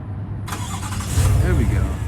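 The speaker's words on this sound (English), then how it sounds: "I'm gonna start the engine, but I want everyone to hear what the engine sounds like." A 2023 Cadillac Escalade Premium Luxury 600 is cold-started by remote, and its engine cranks and catches into a rising, rumbling idle nearby. A voice speaks over it.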